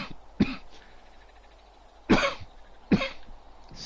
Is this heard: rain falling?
no